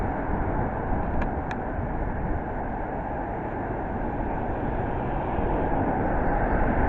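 A London Underground Metropolitan line train pulls away from Pinner station, a steady broad rumble and rolling rail noise holding at even loudness throughout, with two short faint metallic ticks early on and no talk.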